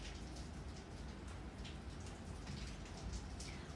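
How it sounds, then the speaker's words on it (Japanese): Real rain falls steadily outdoors in a soft, continuous wash of fine drops and patter, quiet and even throughout with no voices over it. "ガチの雨の ASMR です"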